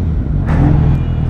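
A new motorcycle's engine revving, giving a loud, close, continuous rumble that swells briefly for just over a second.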